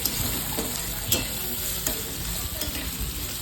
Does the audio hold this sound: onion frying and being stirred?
yes